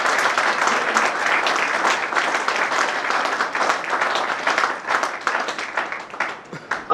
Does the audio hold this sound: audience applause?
yes